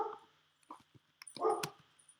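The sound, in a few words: dogs barking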